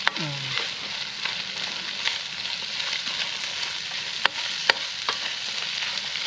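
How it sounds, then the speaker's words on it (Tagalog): Carrots sauté in a hot pan with a steady close sizzle and occasional clacks of a utensil stirring against the pan. "Gisa na rin natin yung ating carrots."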